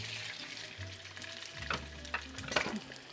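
Sausage meat frying in oil in a pan on medium-low heat, a quiet continuous sizzle with a few sharper spatters and scrapes toward the end, close by and with no voices.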